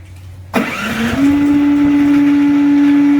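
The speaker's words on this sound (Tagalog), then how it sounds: "Tapos hintayin natin mabuhay yung generator." A Philking 4200 generator cranks and fires after the mains power is cut off, with a sudden loud start that builds into a steady, close, droning engine hum with no talking.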